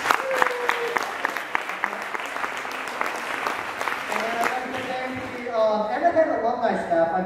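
An audience at a university culture show bursts into sustained applause, dense clapping from a large crowd that carries on steadily, with someone speaking over it on a microphone toward the end.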